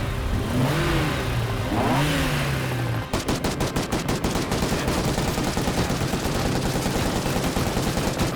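Gunfire in a dramatised shootout: a rising whine and engine-like roar gives way after a few seconds to a long, loud burst of rapid shots fired in quick succession.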